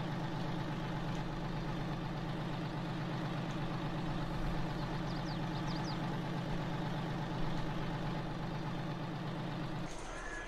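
A seed and fertilizer truck in Farming Simulator 22 idles with a steady low engine drone and constant rumble, unchanging and close, with a slight shift just before the end.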